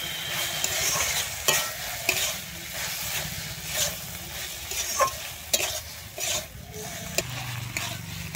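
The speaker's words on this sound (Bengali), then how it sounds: "আমি সরষে পোস্ত কাঁচা লঙ্কাটা দিয়ে কিন্তু 1 থেকে 2 মিনিটের জন্য এখানে ভেজে নেব।" A mustard and poppy seed paste with green chilies fries in a pan, giving a soft steady sizzle broken by scraping stirs and light clinks, heard close with no talk.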